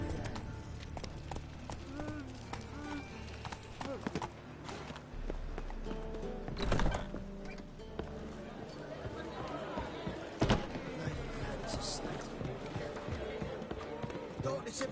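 Horse hooves gallop through The Witcher 3, a steady clip-clop running under continuous game sounds and music, with a couple of louder thumps along the way.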